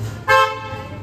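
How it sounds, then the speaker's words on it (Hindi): A goods train's horn sounds near a mall in Korba: one short, loud blast over a steady low background rumble. "भाग जा भाई ट्रेन आ गया।"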